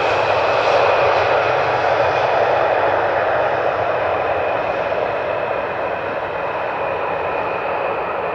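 An airliner lands on runway 18R at Amsterdam Schiphol without reverse thrust, its engines producing a steady, loud, broadband roar that fades only slightly across the whole stretch with no talk.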